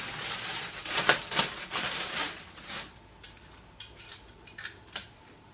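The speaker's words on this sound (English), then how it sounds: "Well, not unbox, but unwrap the stand." A Neewer ring light stand is unwrapped, with crinkling, rustling packaging and a few sharp plastic rattles and clicks, close and fairly quiet, busier at first and then in scattered bursts.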